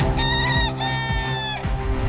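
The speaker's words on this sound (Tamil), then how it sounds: "பட் எல்லாமே சண்டை கோழிங்க தான்." Fighting rooster crowing twice in a row, loud and close, each call a long drawn-out cock-a-doodle-doo with clear harmonic tones, the second crow following right after the first.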